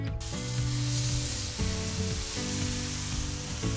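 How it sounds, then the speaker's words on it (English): Steady, loud sizzling of marinated salmon frying on a hot barbecue grill, with a broad hissing texture and low tonal hum underneath, no talking. "Listen to that sizzle, isn't that satisfying?"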